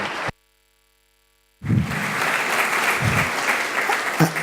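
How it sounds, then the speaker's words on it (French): Audience applause in a conference hall at a Brussels event on surrogacy and adoption, breaking in after a moment of silence and swelling into steady, dense clapping that continues loudly to the end. "Une salle d'applaudissements"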